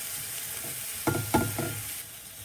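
Onions and garlic for homemade spaghetti sauce fry in a pan with a quiet, steady sizzle, broken by three quick scraping stirs near the middle.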